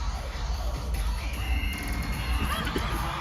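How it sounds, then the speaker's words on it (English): A roaring game crowd in Elden Ring cheers as a continuous dense wash of shouting voices, fairly loud and sustained throughout without clear breaks. "Listen to the crowd."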